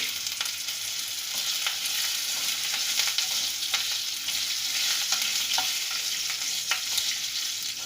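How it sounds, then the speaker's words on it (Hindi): Curry leaves and a green chili frying in hot oil on low heat in a pan, with a steady close sizzle and occasional stirring scrapes, heard alone without talk. "ये 10 सेकंड्स के लिए आप इसको फ्राई कर लीजिए।"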